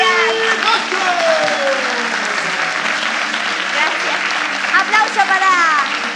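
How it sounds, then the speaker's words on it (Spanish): Audience at the Teatro Puerto Montt applauds throughout, a dense wash of clapping under an excited voice that calls out over it and rises again toward the end. "¡Un aplauso para... ¡Gracias!"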